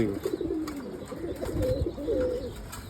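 Chila pigeons cooing nearby in soft, throaty repeated coos over a busy background of other faint bird sounds, with no speech.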